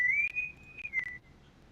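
A single sustained whistled tone from the Slender AI character in a horror video game, rising slightly then holding before a short dip and cutoff, clear and alone.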